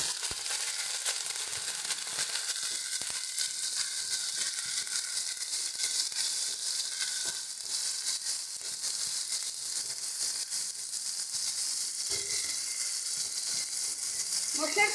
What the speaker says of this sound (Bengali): কাঁচা লঙ্কা বাটা, আদা বাটা। ভালো করে এটাকে কষিয়ে নেব।